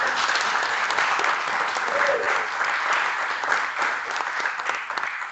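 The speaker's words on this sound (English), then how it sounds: "hello to them and clap for them" Sustained audience applause at an awards ceremony for a university MA short film festival, a dense steady roar of many hands clapping that continues evenly throughout, with some faint talk underneath.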